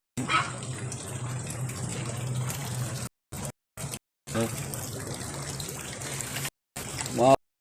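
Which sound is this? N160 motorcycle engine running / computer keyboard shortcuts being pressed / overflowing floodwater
overflowing floodwater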